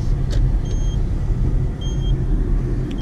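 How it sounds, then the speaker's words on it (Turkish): Seat Ibiza car with LPG fitted accelerating from inside the cabin, a continuous low engine rumble and road noise, with faint brief squeaks, no talk. "Şimdi buradan gazımızı alalım. Arabayı gazlayalım."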